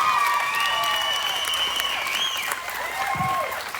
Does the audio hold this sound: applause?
yes